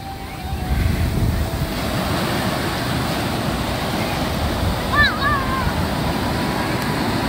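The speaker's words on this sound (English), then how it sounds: "my feet being washed by the waves" Ocean waves wash up over bare feet on a Southern California beach: a steady, loud broadband rush of surf mixed with wind buffeting the microphone, with no voices.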